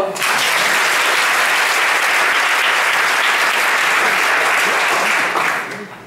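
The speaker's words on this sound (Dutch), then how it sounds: "ik wil graag een heel groot applaus voor Guido" Loud, dense audience applause at a music education academy event, many hands clapping together in an even roar that starts at once, holds steady for several seconds and tapers off at the end.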